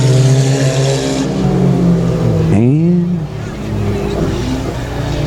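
Race cars roar around the dirt oval at Texarkana 67 Speedway, engines loud and steady with a rising-then-falling pass near the middle as one car sweeps by; an announcer talks over the racing.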